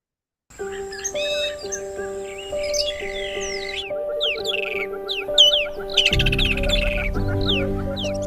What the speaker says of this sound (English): Birds, they're all around us.